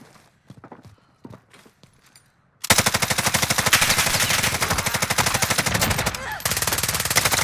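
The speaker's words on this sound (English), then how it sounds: "Where am I getting shot from?" Video game gunfire erupts after a few quiet clicks and thuds, becoming a sustained, loud rapid-fire automatic burst that rattles on for several seconds with barely a pause.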